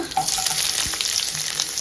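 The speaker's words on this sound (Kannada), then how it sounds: "ಇದಕ್ಕೆ ಒಂಚೂರು ಜೀರಿಗೆ ಹಾಕ್ಕೊಂಡು ಒಗ್ಗರಣೆ ಕೊಟ್ಟು ಈರುಳ್ಳಿ ಹಾಕ್ಕೊಳ್ಳೋಣ" Onions sizzle steadily in hot oil tempered with cumin seeds, a bright continuous hiss with occasional stirring scrapes, close up and without talk.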